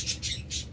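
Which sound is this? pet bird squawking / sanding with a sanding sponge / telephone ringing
pet bird squawking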